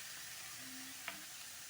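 Grated beetroot for Kerala-style thoran sizzles softly in a pan, a faint steady hiss with a brief clink of stirring partway through.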